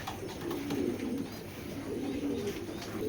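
Racer pigeons coo steadily in soft, low, overlapping calls that continue throughout, fairly close, with no talking.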